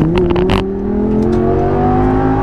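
An Audi R8 V10 engine pulls hard uphill, its loud, steady drone rising gradually in pitch as the car accelerates. It plays close and continuous, with a few brief higher bursts early on and no talk.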